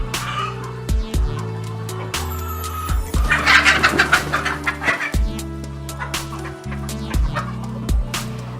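Laying hens on a Cameroon poultry farm cluck and squawk close by, a busy overlapping chorus with a brief louder flurry midway, over a steady low mechanical hum; a dog may bark once or twice.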